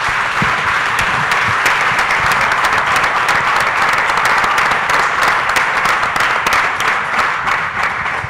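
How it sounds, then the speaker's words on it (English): Loud, sustained audience applause for five award-winning fast-growth companies at a business panel in Denver, many hands clapping in a dense, even roar with sharp individual claps standing out. "So how about a great round of applause for these 5 great companies?"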